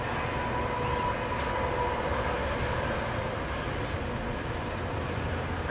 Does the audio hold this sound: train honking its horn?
yes